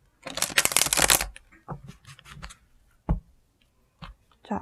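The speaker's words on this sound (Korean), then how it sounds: "셔플 한번 하고요." A deck of tarot cards is shuffled close by in a quick riffling burst, followed by several short card taps and slides.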